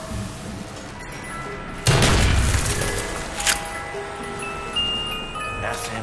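SMG fire in Call of the Dead, a sudden loud burst that decays over a second or two amid game ambience, followed by a smaller crack and a later thump.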